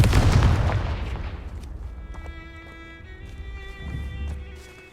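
A Confringo blasting spell is cast in the Hogwarts Legacy video game, giving a loud burst at the start that decays into a ringing, shimmering magical tail with a smaller secondary boom near the end, with no talk.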